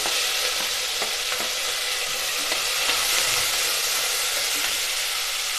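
Ginger garlic paste, green chili and tomato fry in a pan, a continuous bright sizzle with faint stirring scrapes, close and steady with no voices.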